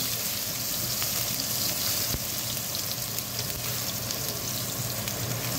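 Garlic sizzling in hot oil in a pan, the start of a Filipino ginisang pechay with tofu; a steady, close, dense frying crackle that holds evenly throughout, with no voices.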